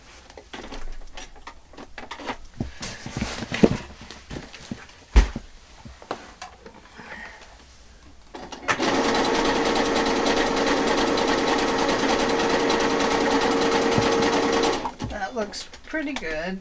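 A sewing machine stitches a practice feather stitch, a loud, steady mechanical whir for about six seconds after quieter handling clicks and a person talking, with brief talk resuming afterward.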